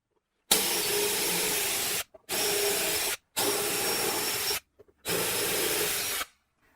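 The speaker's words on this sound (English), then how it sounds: "And I'll drill these through." A power drill bores holes through a metal pipe-flange fixture in four sustained bursts separated by brief pauses, loud and close with a steady whirring buzz and no talking.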